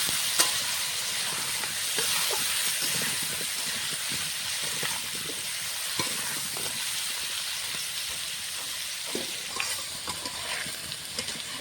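Potato pieces frying in oil in a pan in a home kitchen while cooking Bengali chicken kosha, a steady close sizzle and hiss with occasional stirring scrapes and taps, continuous and without speech.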